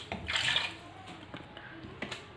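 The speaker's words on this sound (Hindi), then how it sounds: "साथ ही इसमें मैं पानी शामिल कर रही हूँ" Water poured into a pressure cooker over lamb meat, a short splashing gush that rises and fades within a second, followed by faint drips and light clatter nearby.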